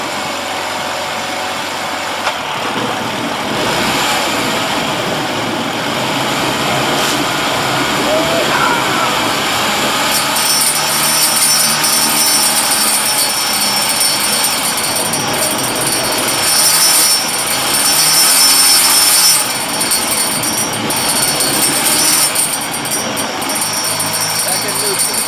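A Honda 7.5 HP outboard motor idles with a steady, loud drone and a high whine running throughout, and someone talks over the engine now and then.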